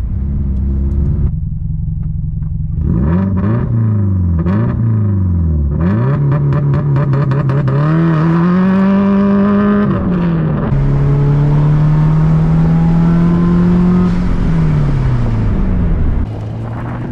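A 2002 Subaru WRX's factory-turbocharged 2-liter four-cylinder engine starts up, then revs in several sharp bursts before settling into long, steady throttle holds, loud and close with a turbo whine.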